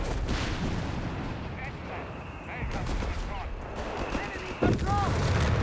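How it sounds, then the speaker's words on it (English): Bazookas fire at a Wirbelwind anti-aircraft vehicle in a Company of Heroes 3 battle, with dense booming artillery and gunfire continuing throughout, a sharp louder blast near the end, and a voice talking over the action. "Bazookas firing back at the Wirbelwind."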